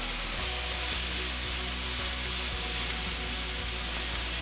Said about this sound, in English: I'm gonna turn it back up to medium heat and just saute them